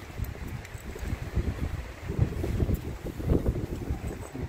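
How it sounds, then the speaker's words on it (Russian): Strong gusty wind roars continuously across an open microphone at Hopewell Rocks, New Brunswick, a steady low rumble swelling in bursts with no one speaking. "Ветрюган, конечно, очень дует."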